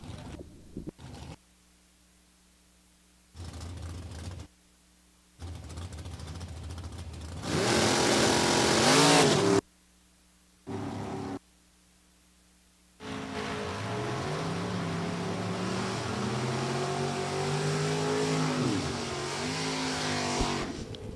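Ford and Chevrolet drag race cars at a raceway, heard as loud roaring launches and high revving passes that cut in and out in bursts, ending in a long sustained engine drone.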